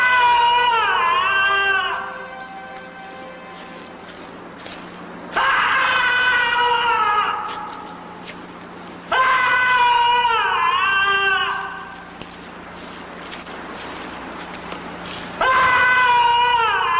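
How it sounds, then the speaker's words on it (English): Angry screams said to come from a haunted human skull at Bettiscombe Manor ring out as four loud, wavering, wailing bursts with rising and falling pitch, each trailing off into a reverberant hush before the next begins. "When provoked, the skull's angry screams reverberate for miles."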